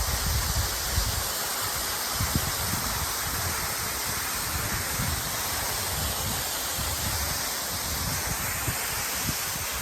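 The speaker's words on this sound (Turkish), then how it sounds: "Burası Kanlıçay Şelalesi'nin ikinci şelalesi." Kanlıçay waterfall's second cascade in Kanlıçay village, Karapürçek, pouring as a steady, loud broadband roar of falling water, continuous and unbroken with no voices.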